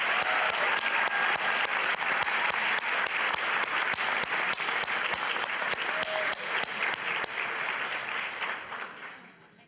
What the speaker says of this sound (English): Please, can everyone give a big round of applause for all of our athletes for the great season this year?